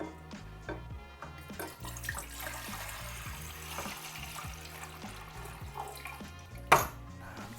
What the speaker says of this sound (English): get a little bit of water flowing through just to get it started a little bit